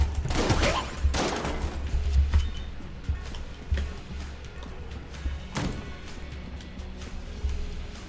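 Shotgun blasts from the Enter the Gungeon video game fire in quick bursts, loud and close, with scattered thuds and clinks between them and no talk over the action.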